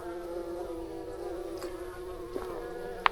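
Bees or hornets buzz in a steady, close drone as they swarm around trekking poles at a mountain shelter on the Appalachian Trail, with a few brief louder passes near the end.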